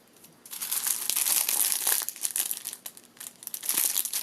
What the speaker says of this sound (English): I'm going to cut off 5 rows off of this one